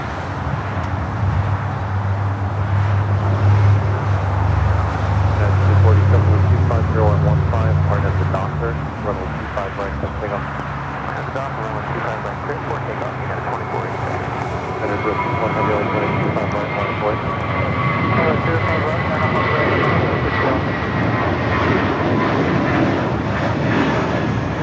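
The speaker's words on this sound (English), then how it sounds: "Japan Airlines Flight 61, the flight heading back to Tokyo to Rita on a 787-9 Dreamliner number 3" A Japan Airlines Boeing 787-9 Dreamliner takes off at LAX, a steady jet engine roar swelling then shifting into a rising whine as the aircraft accelerates, with radio chatter and talking over it.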